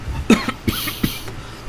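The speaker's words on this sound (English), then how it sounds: "still got this cough." A person coughs three times in short, separate bursts, fairly close and clear, with quiet room tone between each cough.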